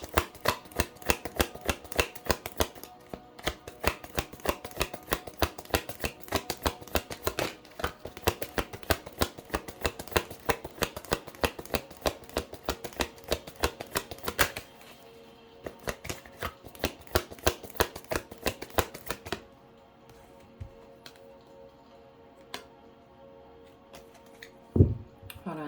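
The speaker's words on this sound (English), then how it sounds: "I need to shuffle real quick." Tarot cards are shuffled close by in steady, rapid riffling bursts, with a brief pause partway through, then a quieter stretch of scattered card taps and handling.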